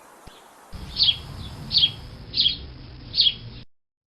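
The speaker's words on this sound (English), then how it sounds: "Sparrow." A sparrow chirps four evenly spaced, bright notes over a steady low background hiss, close and clear, with no voices.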